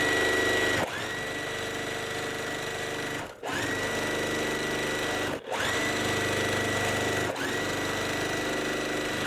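A sewing machine stitches quilt block pieces together in steady, loud, continuous runs, broken by a few brief pauses between seams, with no talking.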